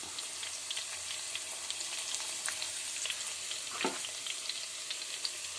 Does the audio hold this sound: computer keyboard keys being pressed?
no